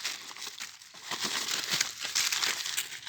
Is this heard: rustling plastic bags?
yes